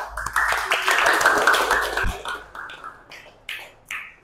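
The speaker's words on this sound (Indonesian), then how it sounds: "Tadi tepuk tangan buat semuanya." A class of students breaks into applause in a classroom, a dense burst of clapping that swells, then thins out into a few scattered final claps.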